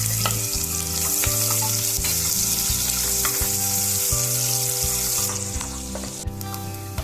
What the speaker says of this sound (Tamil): பாருங்க, வெங்காயம் நல்லா வதங்கியாச்சு.